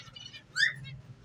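African lovebirds give a few bright, high chirps and squawks at close range, with one louder call in the middle, over a quiet low background hum.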